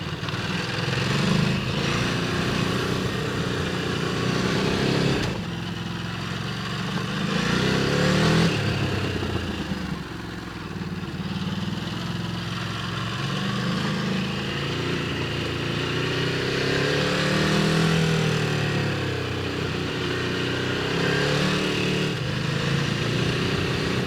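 A motorcycle rides downhill on loose ground on Gran Canaria, its engine rumbling at low revs and rising and falling as the rider brakes and rolls, with wind and gravel clatter continuous throughout.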